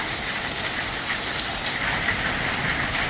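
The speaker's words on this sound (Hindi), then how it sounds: "बाहर तो बारिश हो गई" Steady rain pours outdoors in a village during a heavy downpour, a dense, even hiss of drops on surfaces with no voices.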